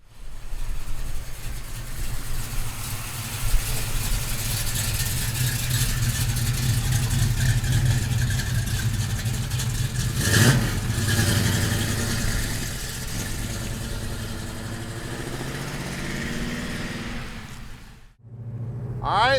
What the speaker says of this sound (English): Man, it's got a great sounding exhaust system on it.